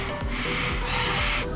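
Parrots squawking in an outdoor aviary at a parrot sanctuary, harsh raucous calls overlapping in a dense, loud, continuous chorus with several sharper cries standing out near the start and middle.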